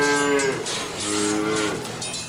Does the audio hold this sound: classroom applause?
no